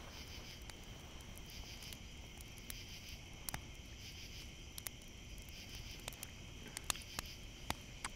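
Crickets and other bugs chirp outdoors in the dark, a faint, steady high trill with scattered sharp clicks and ticks, no voices.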